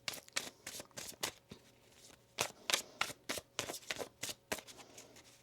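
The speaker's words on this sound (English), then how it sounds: "One more shuffle here." Tarot cards shuffled by hand close up, a rapid series of crisp riffling and slapping bursts, quiet and steady with no talking.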